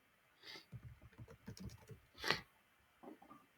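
Bursts of typing on a computer keyboard, close and fairly quiet, with soft clustered keystrokes, a brief louder flurry midway and a short pause before a few final taps.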